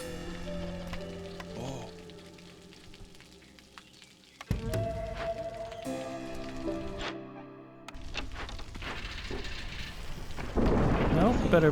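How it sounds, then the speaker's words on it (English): Thunderstorm in the colony-building game Against the Storm: rolling thunder and steady rain build in waves, with a sharp crack midway and a heavier downpour surging loud toward the end, no talk over it. "Storm is coming, but we should be fully prepared for the storm."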